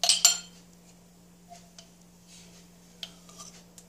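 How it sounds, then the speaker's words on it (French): A metal spoon clinks twice sharply against a container while handling paintbrush cleaning solution in a quiet room, followed by a few faint taps and rubs over a low steady hum. "je vais utiliser une cuillère"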